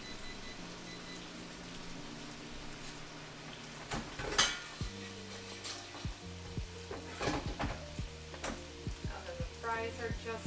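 Fries hiss and crackle steadily in a pan of hot oil, with a few sharp pops and metallic clinks and clatters of cookware over the sizzle.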